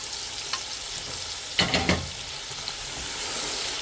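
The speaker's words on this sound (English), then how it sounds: "So whilst the onion is cooking" Onion frying in a pot for village-style jollof rice, a steady close sizzle with a few brief clatters of stirring near the middle.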